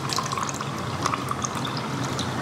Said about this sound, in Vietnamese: Rồi mình sẽ rót đầy ở cốc nước bi này.